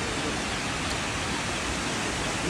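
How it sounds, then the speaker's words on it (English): Huangguoshu waterfall in Guizhou roaring as a dense, steady, broadband rush of falling water and spray, loud and unbroken throughout. "A lot of spray coming off the waterfall."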